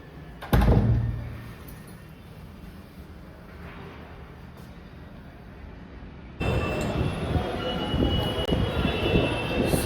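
A Delhi metro train rumbles at Shaheed Sthal station, with a sharp thud near the start and a louder rush of train noise building up in the second half.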